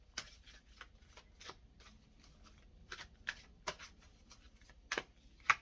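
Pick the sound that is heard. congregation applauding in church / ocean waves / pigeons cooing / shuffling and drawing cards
shuffling and drawing cards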